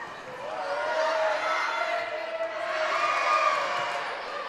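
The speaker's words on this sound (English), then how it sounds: "Just let the crowd dictate the noise." A crowd cheers at a high school volleyball match between Perham and Frazee, a sustained, swelling roar of voices in a gym with squeaks and court noise beneath and no clear speech.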